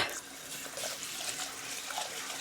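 Rice being rinsed in water: steady running and splashing water, fairly close and continuous, with no voices over it.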